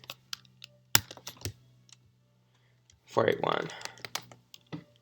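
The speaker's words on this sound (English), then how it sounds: "I don't want to try to type this number." Rapid clicks of computer keyboard keys as a number is typed, bursts of keystrokes around a flurry in the middle, heard close with someone speaking briefly over them.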